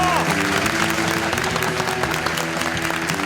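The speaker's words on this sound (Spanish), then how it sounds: "¡Fuerte el aplauso!" Loud, dense applause from a crowd fills the whole stretch, with music and other steady tones running underneath.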